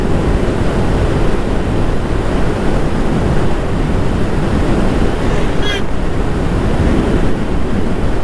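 Surf at Dhanushkodi, where the Arabian Sea meets the Bay of Bengal, roars as a loud, continuous wash of waves mixed with heavy wind buffeting, with a brief whistle near the end.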